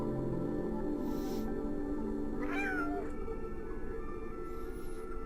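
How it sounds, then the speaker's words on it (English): A cat meows in the Stray video game trailer: a few short, clear meows, one more prominent near the middle, over a steady musical backdrop. "Kitty."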